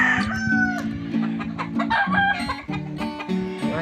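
A red rooster with white feathers on its head clucks and calls in repeated bursts, loud and close, with no talk over it.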